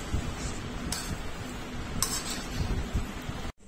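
Salt being mixed into momo dough in a bowl, with steady close scraping and soft clinks of utensil against the bowl, plus a couple of brief sharper knocks, ending abruptly.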